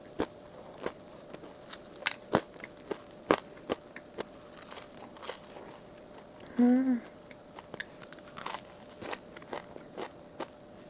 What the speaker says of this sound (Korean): 여기 되게 바삭해요. 쿠키처럼.